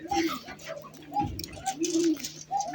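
Several pigeons huddled together in cold weather give soft, low coos repeating in short phrases close by, with faint rustling and light background noise between calls.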